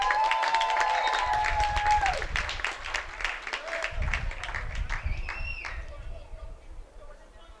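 Spectators at a Seattle Sounders U23 soccer match at Sunset Stadium clap, with a brief, fairly faint burst of crowd applause and scattered cheers under open-air ambience and distant talk, thinning out over a few seconds.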